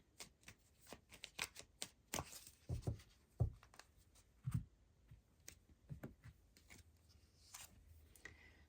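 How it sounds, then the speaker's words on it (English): Tarot cards are drawn and shuffled from a deck during a pick-a-card reading, giving a quiet series of crisp card flicks and soft slides with a few louder snaps, close and alone without talk. "Let's get a few cards from Starlight to conclude your reading."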